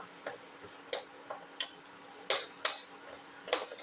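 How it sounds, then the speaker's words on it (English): Ginger, beef and shallot mix being sautéed in a pan, heard as a steady series of light metallic clinks and scrapes from a spatula striking the pan, close and fairly quiet over a faint hiss. "Thoroughly saute mix."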